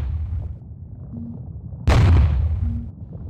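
Cannon firing in the video game Parkan: Iron Strategy: one loud, sharp boom midway through that decays into a rumbling tail over a low mechanical drone.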